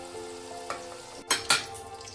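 Green beans fry in a pan for beans aloo posto, a steady close sizzle broken by a few louder scraping stirs.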